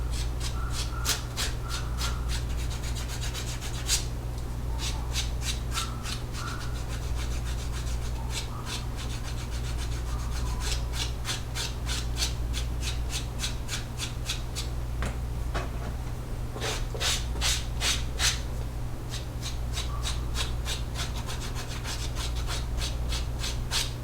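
Rubbing and sanding of the glued rounded edges of a leather card holder, a steady close scraping with rapid rhythmic strokes over a constant low hum, lasting throughout without talk.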